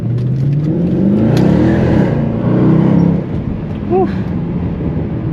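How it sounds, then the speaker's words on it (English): A Mercedes-Benz C63 AMG W204 V8 accelerating hard with a burst of wheel spin on a night drive, loud and close from inside the cabin, engine roar rising and falling with a brief tyre chirp near the end. "Little bit of accidental wheel spin there."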